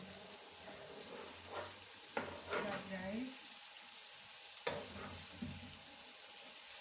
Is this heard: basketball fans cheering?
no